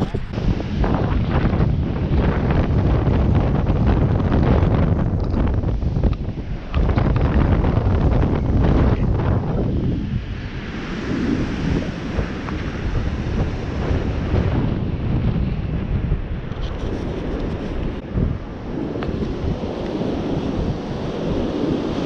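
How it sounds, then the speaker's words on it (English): Strong wind buffets the microphone at an ocean bay as rough surf churns, a loud continuous roar of wind and breaking waves that stays dense throughout. "It's really rough as bricks and windy,"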